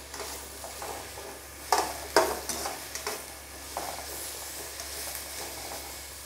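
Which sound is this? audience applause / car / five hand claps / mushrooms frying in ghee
mushrooms frying in ghee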